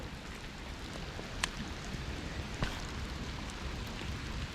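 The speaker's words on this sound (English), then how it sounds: "it's raining like hell" Heavy rain falls steadily during bass fishing from a boat, a dense even hiss of drops with a couple of sharper taps, close and unbroken throughout.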